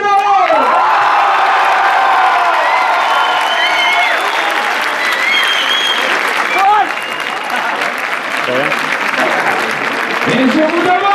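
A cinema audience at a film preview applauds and cheers loudly for actress Isabelle Funaro, with shouts, whoops and children's voices rising over sustained, dense clapping; voices call out within the crowd noise.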